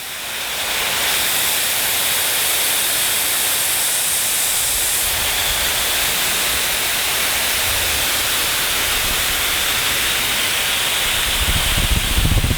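A forceful, steady rush of water from a fire hose nozzle at full throttle hisses continuously and loudly, with no pauses.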